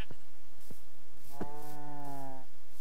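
A cow in a video game gives one drawn-out moo, clear and close, between a few short clicks and thumps.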